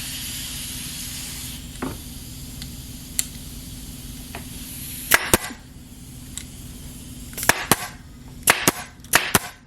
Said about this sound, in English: what I can do is just staple